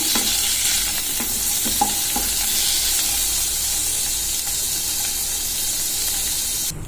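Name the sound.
cauliflower frying in oil in a pan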